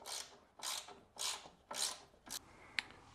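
A ratchet with a half-inch socket loosens bolts on a Toro Timemaster mower deck, giving several loud, close ratcheting bursts in a quick rhythm, then a sharp metallic click.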